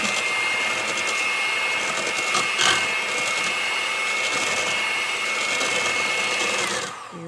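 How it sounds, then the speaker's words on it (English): A handheld electric mixer runs steadily on its high setting while mixing pretzel dough, a loud continuous motor whine with a slight rattle that holds for several seconds, then winds down at the end. "We're going to take our hand mixer here."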